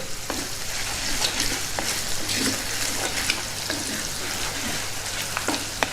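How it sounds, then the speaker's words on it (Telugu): Green chillies and onions frying with curry leaves in hot oil for a dal of amaranth greens, a steady, close sizzle with faint stirring scrapes throughout and no talking. "ఇప్పుడు కరివేపాకు కూడా వేస్తున్నాను పచ్చిమిర్చి ఉల్లిపాయలు వేగడానికి ఒక రెండు నిమిషాలు టైం పడుతుంది"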